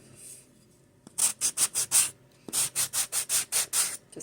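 Filing the overhanging napkin edge off a coaster, a run of rhythmic rasping strokes, five quick ones, a short pause, then seven more, close and fairly loud with no talk.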